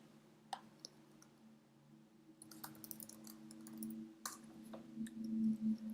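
Mouse clicks in Studiometry software on a computer, faint and sparse, a few quick clicks alone against a quiet room hum, with a short cluster near the middle.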